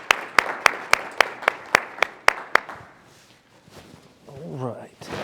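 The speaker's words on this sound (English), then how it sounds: "Please give them a round of applause." A business gathering's audience honors a standing development committee with about a dozen crisp, evenly spaced claps that stop abruptly, followed by a quiet stretch and a brief voice.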